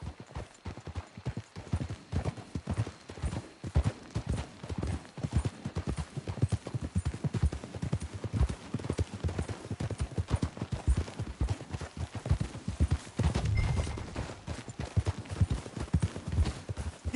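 Horse hooves clip-clop steadily through a video game scene, several horses trotting in a dense, continuous rhythm close by, with a brief whinny near the end and no talk.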